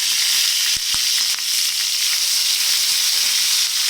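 Onion and green chillies frying with bitter gourd in hot oil, a steady loud sizzle with a few sharp clicks of a spoon, close up and uninterrupted, with no voices.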